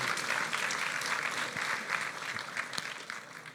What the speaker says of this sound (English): huge round of applause to the team